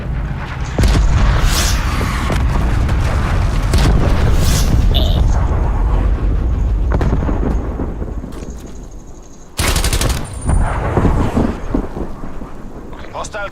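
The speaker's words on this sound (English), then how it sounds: "Cruise missile inbound." In a video game, cruise missile explosions boom loudly and close, rolling together into a long continuous roar, then cutting off and returning with a second burst of heavy blasts.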